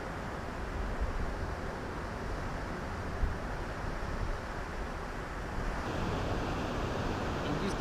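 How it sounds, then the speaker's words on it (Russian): Indian Ocean surf washing onto a Bali shore, a steady broadband roar of breaking waves close by, with wind buffeting the microphone throughout and no talk. "Индийский океан."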